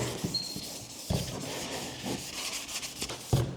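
Black primer being hand-scuffed with an abrasive pad on an aftermarket fender flare: close, steady rubbing and scratching strokes broken by a few louder knocks, with no talk over it.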